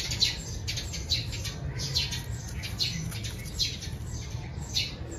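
Many birds chirp and squawk together in repeated bursts over a low background rumble, fairly close and busy, with no one speaking.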